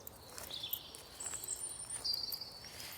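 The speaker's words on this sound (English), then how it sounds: "you've enjoyed sort of listening to the birds like I have this morning" Birds sing in the morning at a distance, thin high chirps and short whistled phrases scattered over a quiet, faintly hissing outdoor background, with no voices.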